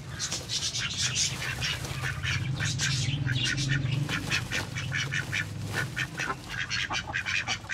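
Pet ducks quacking loudly and close by in a busy, overlapping chorus of repeated nasal calls that runs almost without a break.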